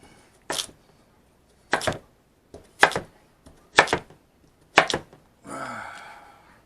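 Knife slicing through turnip on a cutting board for a bacon side dish, five distinct crisp chops spaced about a second apart, close and clear, ending in a longer rustling scrape.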